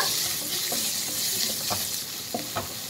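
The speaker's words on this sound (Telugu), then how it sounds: "సో ఇప్పుడైతే ఉల్లిపాయలు వేసేసుకుంటున్నా. ఉల్లిపాయలు కూడా చక్కగా వేగాలి." Onions frying in a pan for cabbage curry give a steady close sizzle throughout, with a few soft stirring scrapes and taps against the pan.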